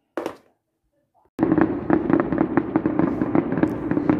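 Fireworks at a city festival, heard from a distance: a single short pop, a moment of silence, then a continuous crackling barrage of bursts that keeps going to the end.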